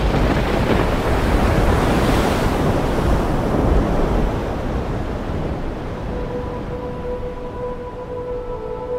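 Steady roar of ocean waves and gusting wind at sea, as aboard a trading boat sailing toward Manila in strong wind; a constant broad wash that eases slightly toward the end, with no voices.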